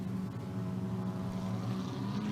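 Racing boat motors droning steadily at a Grand Nationals boat race, a continuous distant engine hum with a low tonal rumble and no voices over it.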